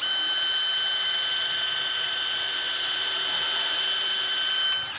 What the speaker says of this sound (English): while I drill the pilot hole for the lag bolt